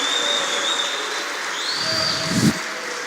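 A church congregation applauds as a broad, steady wash of clapping, with faint tones and a brief low thump near the end.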